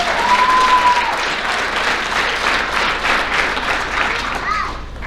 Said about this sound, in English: Let's give Brennan Davis a round of applause.